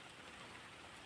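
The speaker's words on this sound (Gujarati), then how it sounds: "કેટલો બધો આવ્યો છે વરસાદ." Heavy rain falling steadily, a dense, even wash of patter that continues without a break through the whole short stretch, faint and alone.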